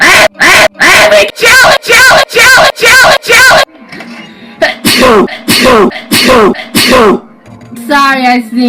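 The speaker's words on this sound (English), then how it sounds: "Sorry, I sneezed." A rapid, rhythmic run of loud sneezes, about seven in quick succession, followed by a second, slightly slower series of sneezes and a brief high squeal at the end.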